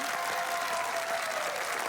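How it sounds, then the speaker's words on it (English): A studio audience at a high school quiz show bursts into loud, dense applause and cheering, a continuous wash of clapping close up for a couple of seconds. "You can cheer now"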